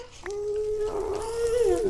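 A dog in the Minecraft video game whimpers in a thin, drawn-out whine that wavers and grows slightly louder, with game sounds faint behind it.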